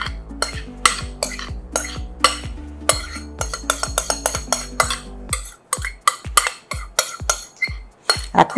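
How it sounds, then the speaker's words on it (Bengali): A sweet kalakand mixture scraped from a mixing vessel into a microwave-safe bowl, heard as a run of sharp metallic clinks and taps of a spoon against cookware, close and irregular, with no talk. "এটা আমি একটা মাইক্রোওয়েভ সেফ বাটিতে এবার ঢেলে দেব।"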